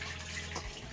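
Water runs and splashes as drumstick vegetables are rinsed in a home kitchen, a soft steady trickle from a tap with light dripping and sloshing. The sound is faint and continuous and has no talking.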